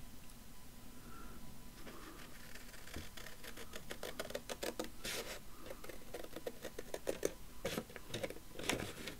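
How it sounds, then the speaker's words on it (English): Scissors cut along a ruled line through the paper pages of a handmade journal, giving a close, quiet series of crisp snipping and crunching clicks that quicken and grow louder toward the end. "I'm going to use my scissors and be brave."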